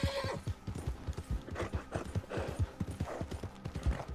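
Horse hooves clip-clop at a steady gallop in the Red Dead Online video game, close and fairly loud, with a brief whinny near the start.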